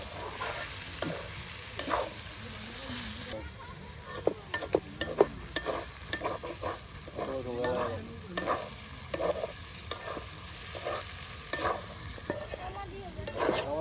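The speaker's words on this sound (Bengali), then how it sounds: "এই যে আলু ভাজা ভাজা করে নেওয়া হলো, একদম ঝরঝরে ভাজা" Potatoes fry in bubbling oil in a Bede community outdoor kitchen in Bangladesh, a continuous close sizzle with frequent stirring scrapes and pops, no talking.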